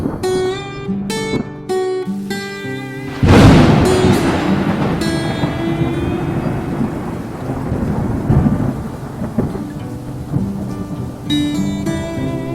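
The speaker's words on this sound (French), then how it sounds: "La foudre, le tonnerre, les grêlons" A heavy thunderstorm along a pilgrimage trail: a loud crack of thunder rolls into a long rumble over steady pouring rain, with further distant thunder beneath the constant hiss of rainfall.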